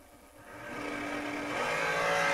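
A pair of dragsters at the Mike Smith Memorial Race launching side by side, engine roar building steadily from a moderate level to a loud, sustained howl with rising pitch over a couple of seconds.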